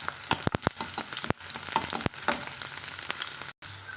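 Shallots are lightly sautéed in a pan, a close, steady frying hiss punctuated by a quick run of spatula clicks and scrapes, with a brief silent gap near the end.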